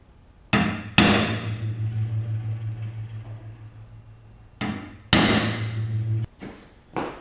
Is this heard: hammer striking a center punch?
yes